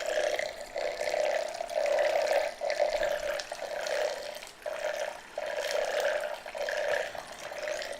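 Water runs from a tap into a container while nitrate fertilizer is being mixed for dosing, a steady splashing flow that briefly dips and resumes several times.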